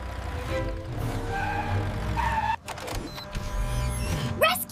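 Cartoon vehicle wheels spin in place while stuck, giving a loud, continuous whirring motor whine that rises and wavers for several seconds, then breaks off into a short scramble of clattering effects.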